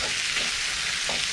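Flour being stirred with a wooden spoon into hot bacon and liver fat in a pan, a steady close sizzling hiss with faint scraping strokes.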